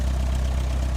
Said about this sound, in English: That is some tug driving by.